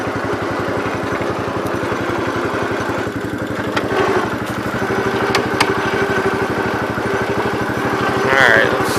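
A 1968 Gravely 430 garden tractor engine chugs loudly and steadily while driving, a rapid even thumping with light clatter and a few faint knocks over about nine seconds.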